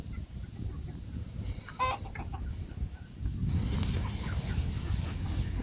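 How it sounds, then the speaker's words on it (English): Roosters and chickens in a storm-damaged farm enclosure give a few brief clucks over steady background noise, fairly faint and intermittent, with a louder wash of rustling noise in the later seconds. "There's still a lot of roosters up here,"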